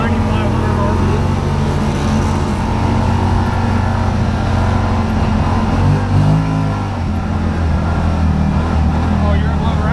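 Engine of a Yamaha Wolverine RMAX side-by-side revs high while driving, a loud continuous roar that rises and shifts pitch, with voices talking over it.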